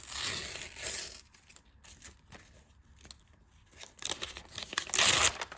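A thin plastic sachet holding a sheet face mask is ripped open by hand, producing crinkly tearing bursts at the start and again near the end, with quieter rustling and handling in between and no talking.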